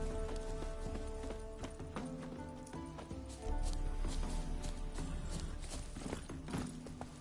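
Roach, Geralt's horse in the video game Witcher 3, gallops in a steady clip-clop rhythm of hooves, close and continuous over a busy game background with music, getting louder partway through.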